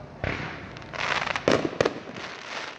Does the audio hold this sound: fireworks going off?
yes